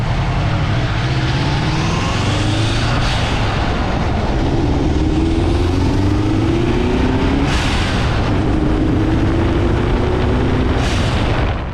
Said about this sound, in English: You can hear the engine breathing louder.